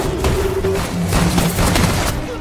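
Sustained, dense burst of rapid enemy gunfire in a war-film battle at Jangsari, a continuous loud fusillade with heavy low rumble lasting a couple of seconds, no speech.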